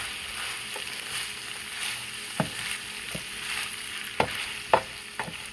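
Cabbage and ground beef bulgogi are stirred in a sizzling pan, a steady frying hiss with several sharp scrapes and knocks of the utensil against the pan, close and fairly quiet.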